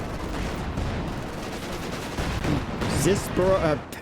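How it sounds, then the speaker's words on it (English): Katyusha rocket barrage in Company of Heroes 2, a dense rumbling volley of launches and explosions filling the clip, with a rising whistling sweep near the end and a commentator talking over the game sound. "Katusha barrage."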